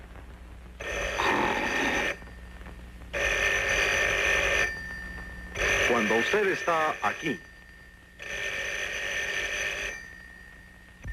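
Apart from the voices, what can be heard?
telephone ringing in a radio commercial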